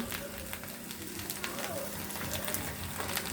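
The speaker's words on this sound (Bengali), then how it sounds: "পেঁয়াজ কাঁচামরিচ ভাজা হয়ে গেছে, এখন দিয়ে দিচ্ছি আদা রসুন আর জিরা বাটা" Ginger, garlic and cumin paste sizzles in a pan with frying onion and green chili, a steady close crackle and hiss with scattered pops throughout, no voices.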